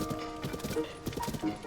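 Horse galloping in The Legend of Zelda: Tears of the Kingdom, quick rhythmic hoofbeats at a steady pace, fairly faint, over game background sounds.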